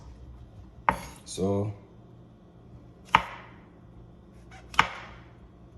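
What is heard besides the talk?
knife slicing cremini mushrooms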